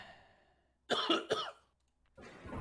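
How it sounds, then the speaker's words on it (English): A close, sharp cough in two or three quick bursts, followed by a brief pause and then softer background noise. "it sounds like your cough isn't any better"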